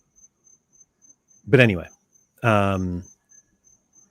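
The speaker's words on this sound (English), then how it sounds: "don't think I've heard crickets in real life" Crickets chirp steadily outdoors in short, evenly spaced high pulses that continue throughout, with a person talking briefly in two bursts over them.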